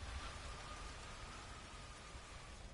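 Steady rain falls in a video game, a soft even hiss of rainfall that continues without break, faint and ambient with no voices.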